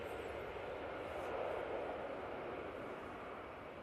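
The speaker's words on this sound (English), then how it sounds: "Baltic, flying on behalf of Swiss, now departing off 23 left." Baltic airliner flying for Swiss departing runway 23 left at Manchester Airport, a steady broadband jet engine roar swelling slightly and easing, distant and constant.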